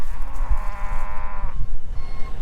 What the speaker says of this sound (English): You might be able to hear some cows down there that aren't very happy, they want to move.